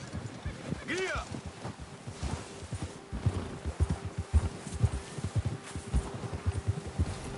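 Horse trotting in a video game, a steady patter of hooves on the ground close by, with a brief whinny early on, rustling and in-game voices over the hoofbeats.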